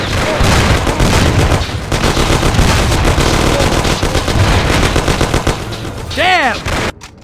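Close, continuous gunfire from a shootout in the Mafia video game, rapid shots and bursts layered over one another, with a sharp ricochet-like whine near the end and voices briefly shouting beneath.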